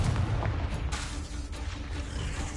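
A Confringo blasting curse explodes in the Hogwarts Legacy video game as a dense, rumbling boom that fills the moment, loud and close with a rolling low-end tail.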